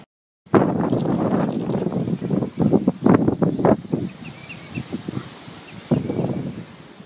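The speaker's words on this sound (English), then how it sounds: "Look at how windy it is." Steady gusting wind roars and buffets the microphone, with rustling and clattering bits underneath it throughout.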